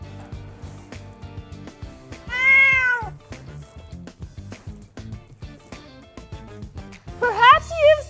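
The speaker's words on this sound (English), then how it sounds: "Perhaps you've seen one of your pets react the same as our little lab cat Mittens just now." A small cat gives two distinct meows, a clear rising-falling one near the middle and a sharper, wavering one near the end, over intermittent clicks and background noise.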